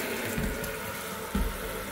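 Warm water runs steadily from a tap, a continuous close rushing splash with a couple of brief louder gushes partway through.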